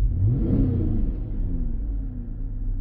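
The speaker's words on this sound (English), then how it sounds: "it's going to tell you full throttle till you hear the governor kick in" Cadillac SRX engine held at full throttle during a computer relearn, a loud steady rumbling drone that surges early, then settles into a sustained high rev as the governor holds it, close by and with no voices.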